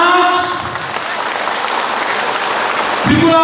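A crowd claps together with all five fingers at a Tripura party gathering, a loud continuous patter of hands that swells briefly at the end.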